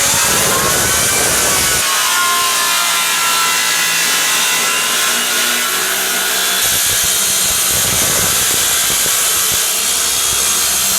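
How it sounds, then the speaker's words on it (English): An oscillating multi-tool cuts wood on a staircase during a laminate stair installation, giving a loud, continuous, buzzing rasp close by that stays steady throughout with slight shifts in pitch and no talking. "that's where this oscillating power tool is good because you can put the blade in here"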